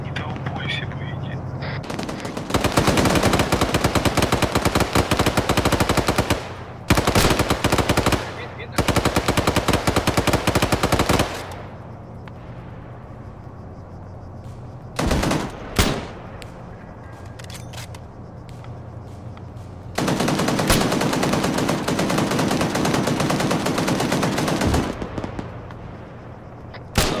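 Long bursts of automatic gunfire in the video game ArmA 3, loud sustained volleys broken by pauses and scattered single shots, with voices talking over quieter stretches.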